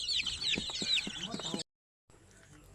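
A mixed flock of chickens, including Basilan chickens, cluck in short, close bursts over a busy background of bird chatter, then the sound cuts out briefly before faint ambience returns.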